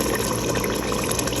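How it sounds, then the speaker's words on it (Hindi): Hot water pours in a steady, loud, continuous gush into a pot of meat and potato curry being cooked at home, with no talk. "इसमें शामिल कर देंगे पानी।"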